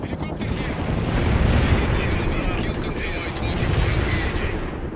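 Gunfire and explosions from the World in Conflict: Soviet Assault battle play a dense, loud, continuous roar of rumbling blasts and crackling shots with no gaps.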